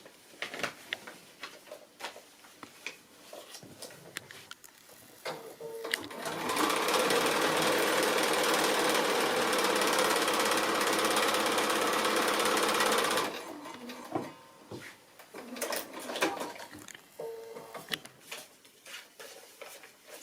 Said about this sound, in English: So now I can stitch that line there